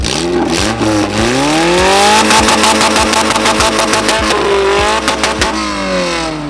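A modified 50-year-old car engine revs hard and rises in pitch, then fires off a rapid string of loud backfire pops and crackles.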